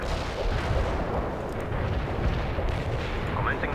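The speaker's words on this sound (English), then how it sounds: "Commencing the barrage. We can deploy and lay down the heavy barrage." Artillery barrage pounding in the video game World in Conflict, a continuous rolling rumble of heavy blasts with faint radio voices underneath.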